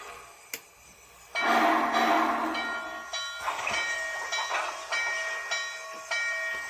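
An MTH J Class model steam locomotive hisses into motion, a burst of steam followed by rhythmic chuffing and faint mechanical clicks, close by with no voices.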